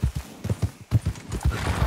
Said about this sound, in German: Hast du ein Pferd? Da ist dein Pferd.